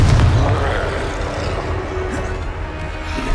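A Confringo fire spell exploding during combat in the video game Hogwarts Legacy, a loud, deep, rumbling boom that rolls on steadily under dense battle noise.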